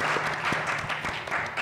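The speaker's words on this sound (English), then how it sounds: "Please give them a round of applause." An audience applauds at a WonderCon 2022 convention panel, a dense, steady wash of clapping that fills the room from start to finish.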